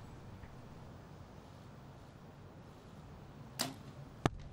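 During a compound archery event at the Berlin 2019 World Cup, an arrow is loosed with a short sharp snap, quickly followed by a crisp, louder impact crack, set against a low hum of outdoor ambience.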